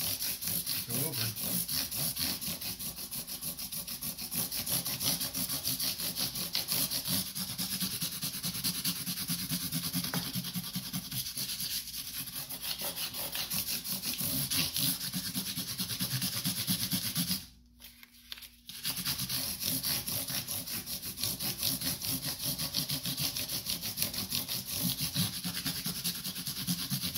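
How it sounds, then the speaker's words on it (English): Guitar frets on a Gibson Hummingbird are rubbed with 600 grit sandpaper in close, rhythmic back-and-forth strokes, a steady scratchy hiss that stops for about a second before the sanding resumes. "So we start with 600 grit, and we just"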